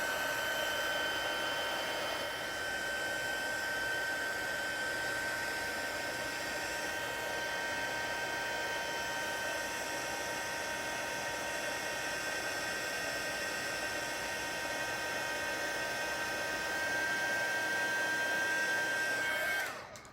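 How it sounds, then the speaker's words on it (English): A heat embossing tool blows hot air in a steady, loud, continuous whoosh with a faint whine, running nearly twenty seconds while making a 3D Christmas tree card, then cutting off at the end. "We'll get our heat embosser."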